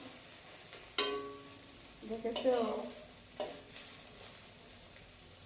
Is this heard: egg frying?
yes